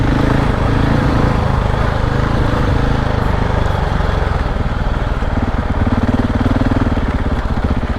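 A KTM 690 Enduro R single-cylinder motorcycle rides off-road, its engine droning loud and close with a steady throb that swells and eases slightly as throttle changes, continuous for the whole stretch.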